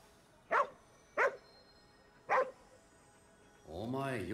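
Three short, sharp barks from a dog in the video game Ghostwire: Tokyo, spaced about a second apart, then a voice begins speaking at the end.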